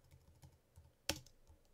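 Soft, irregular clicks of computer keyboard keys being pressed at a steady pace, with one louder clack near the end; no one speaks.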